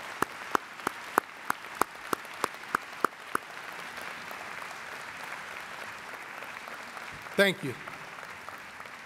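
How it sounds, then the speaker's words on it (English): Faculty applause at a university presidential inauguration ceremony: a dense, steady wash of many hands clapping throughout, with a brief spoken thanks near the end. "So I want the faculty to stand up again and to get a big round of applause."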